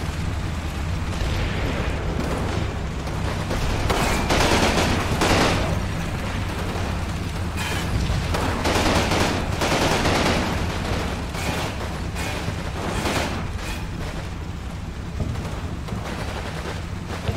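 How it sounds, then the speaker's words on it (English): Sustained machine gun fire and battle explosions in Combat Mission: Rome to Victory, a steady loud roar of overlapping bursts and booms with no pauses. "Still a machine gunner there."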